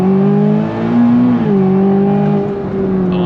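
A 2026 Chevrolet Corvette C8 ZR1 pulling hard in second gear on full throttle, its engine note rising loud and close in a steady climbing howl with a brief dip as the revs settle.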